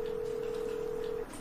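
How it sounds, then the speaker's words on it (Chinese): A phone's electronic tone sounds as one steady, unbroken beep that holds for just over a second and then cuts off, clear above a quiet room background. "接个电话，接个电话。"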